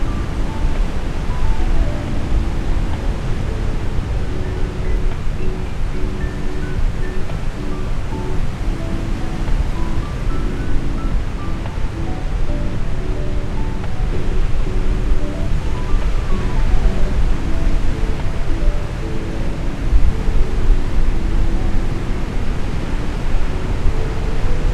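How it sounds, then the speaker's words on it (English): Ocean waves wash steadily and loudly in a continuous broadband roar, with no distinct breaks and no voices. "just listening to the sound of the waves"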